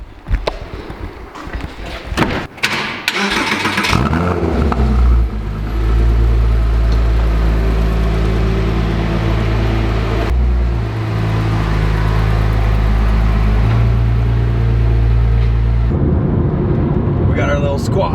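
A Porsche Cayman starts with a loud crank, then the engine catches into a deep, steady rumble that rises with revs and settles into a strong idle, heard up close, with voices underneath early on.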